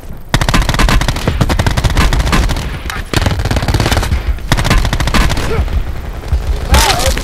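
Rapid automatic gunfire rattles in a shooter video game, loud dense bursts with brief pauses, and excited voices talk over it.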